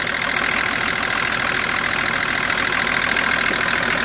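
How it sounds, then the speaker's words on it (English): A BMW M51 six-cylinder diesel engine idles steadily up close, a continuous even rumble with a faint knocking texture and no talking. "M51 6-cylinder diesel."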